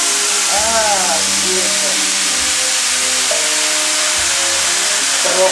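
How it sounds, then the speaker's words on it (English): A hot pan of meat is deglazed with tomato sauce, a loud, steady sizzle and hiss running the whole time under people talking. "No, I'm gonna deglaze it with the sauce."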